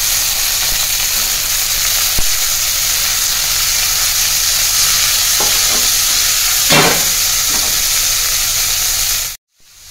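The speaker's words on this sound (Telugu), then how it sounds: "సో ఇది ఒక 1 minute పచ్చివాసన పోయేంత వరకు ఫ్రై చేసేసుకోవాలి క్యారెట్ది." Grated carrot frying with coriander and curry leaves in a pan, a steady loud sizzle with occasional scrapes of a spatula stirring, alone without voices, cut off abruptly at the end.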